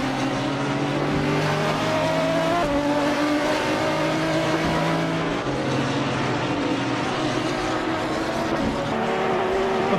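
Several race cars lapping Autopolis in a Super GT event, engines droning and revving steadily and loud throughout, with pitch shifts as cars accelerate and jostle through the corners.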